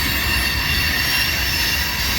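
A southbound manifest freight train, probably empty cars, rolls past at close range, ending with its rear GP locomotive. The rumble and rail noise are steady and loud, with wheel squeal over the top.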